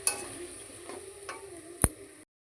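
Chicken curry meat braising in a pan, stirred with a few soft scrapes and clicks over a low steady sizzle, one sharp clack of the spoon near the end, close and fairly quiet.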